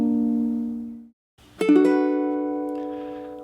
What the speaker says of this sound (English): What you heard there was a minor 7 chord.